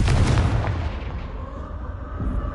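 A Confringo blast spell in Hogwarts Legacy goes off as a loud, booming explosion at the start and then rolls off into a rumbling, fading tail over a couple of seconds.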